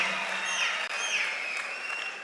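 Steady audience applause at a student gathering for a Seeman speech, dense clapping holding evenly throughout with no voices on top.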